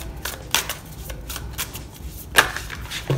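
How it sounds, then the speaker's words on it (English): A tarot card deck being shuffled by hand: repeated riffling and snapping card bursts come close and clear, with a sharper flurry near the end and no talking. "I'm shuffling on camera with the deck that you chose"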